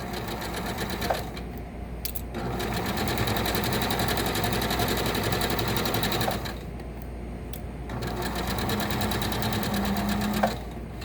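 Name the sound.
sewing machine stitching a seam around a corner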